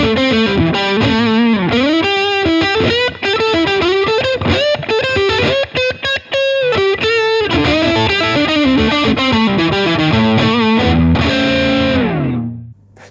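Distorted electric guitar on the neck-position humbucker plays a continuous melodic run through a Blackstar Studio 10 6L6 tube amp, loud and close, ending with a held note that fades out.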